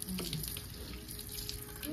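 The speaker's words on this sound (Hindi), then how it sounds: "इतने बर्तन थे ठंडे पानी से," Cold water runs steadily from a kitchen tap while a large stack of utensils blackened from the stove is washed in the sink, a continuous close splashing stream with faint clinks.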